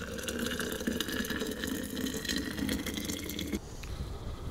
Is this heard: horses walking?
no